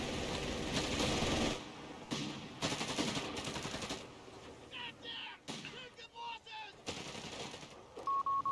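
A .30 cal machine gun in Company of Heroes 3 rattles out rapid bursts amid battlefield gunfire, with loud dense volleys at the start and sporadic shots and game effects after.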